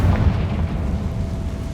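A Confringo blasting spell from Hogwarts Legacy explodes, a low rumbling boom that fades out over a second or two.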